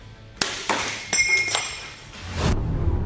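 A sword strikes an unbreakable iPhone case in a series of sharp metallic impacts, several ringing clinks and taps spaced irregularly, ending in a longer scraping clatter, close and loud.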